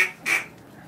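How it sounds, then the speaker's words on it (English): A handheld duck call blown in a quick quacking cadence, one loud nasal squawk standing out among shorter calls, close and alone. "You hear the duck call say Three Blind Mice, or you can hear it like numbers."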